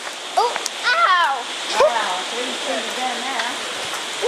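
A water fountain splashes steadily inside a flamingo park, a constant broadband wash heard beneath several excited voices talking close by.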